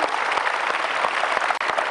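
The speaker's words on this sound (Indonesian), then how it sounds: "tepuk tangan dulu dong buat Bang Sandi" Audience applause for a guest at an inspirational talk show, a steady dense wash of clapping from a crowd, fairly loud and continuous with no voices.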